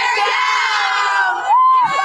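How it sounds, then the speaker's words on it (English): A crowd of voices, including children, roars in a sustained cheer and then a single rising whoop, loud and close. "Should we do one more cheer before I go?"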